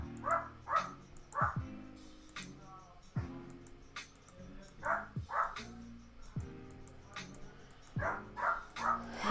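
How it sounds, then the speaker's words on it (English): Several dogs yip and bark in short, repeated bursts close by, with a person's voice talking over them during a casual home livestream. "Don't mind the dogs, they're just here to say hi during the stream."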